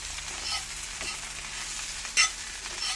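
Chicken fricassee stirred gently in a pan, a soft continuous scraping and shuffling over a faint steady sizzle, with one sharper utensil clink near the end.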